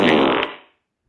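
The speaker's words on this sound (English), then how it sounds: "Oh, I cut off the fart." A single short fart, close and fairly loud, trails off after under a second, followed by silence.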